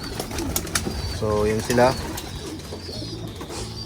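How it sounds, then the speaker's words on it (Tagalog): Young pigeons coo in a loft, a short run of soft throaty coos close by, with wing rustles and someone speaking over them. "So pinakita ko lang sa inyo ating mga young birds."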